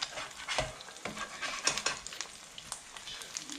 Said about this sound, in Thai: เราก็จะผัดไข่ ก่อนนะคะ